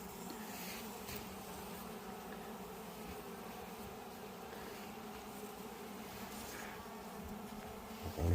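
Asian honeybees (Apis cerana) around a hive give a faint, continuous swarm buzz that holds steady throughout, with no voices heard.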